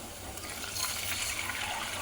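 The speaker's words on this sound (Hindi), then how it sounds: "अब इसमें पानी डाल रही हूँ।" Water splashes steadily into a cooking pot over softened onions for a Konkani-style wedding rice dish, a continuous hissing pour heard close and alone for about two seconds.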